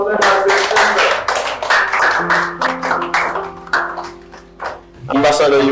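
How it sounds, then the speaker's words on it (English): Guests entering a gathering are greeted with rhythmic hand clapping, mixed with voices and sustained tones throughout, briefly dipping before swelling again. "A big round of applause for them as"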